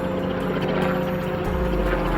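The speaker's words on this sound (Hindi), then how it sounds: "प्रकाश अपनी लैब में एक हेलीकॉप्टर लेकर आता है" A helicopter, part of a cartoon story about a lab helicopter turned into a robot, gives a steady loud rotor drone with faint regular blade pulsing throughout and no talking.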